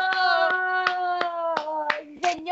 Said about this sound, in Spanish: Y un aplauso para todos los amigos que se encuentran aquí.